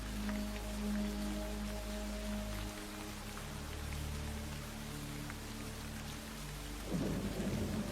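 Light rain falls steadily on a dark night, with low rolling thunder rumbling underneath and a sharper crack of thunder near the end; no voices.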